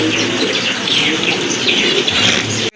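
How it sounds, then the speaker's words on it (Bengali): A crowd of pigeons, including Tail Mark pigeons for sale, coos continuously, overlapping murmurs filling the space with a dense, close chorus before it cuts off abruptly. "এক জোড়া টেল মার্ক কবুতর"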